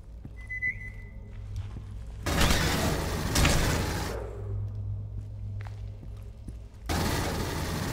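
Automatic gunfire from a gun in the video game Aliens: Colonial Marines, set in alien sewers: two long, loud bursts of rapid shots over a low rumble, then a further burst begins near the end.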